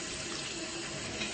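Running tap water splashing over hands rinsed under a faucet in a bathroom sink, a steady close hiss with no voices.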